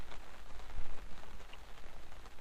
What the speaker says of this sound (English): Sunny and raining in the Yukon.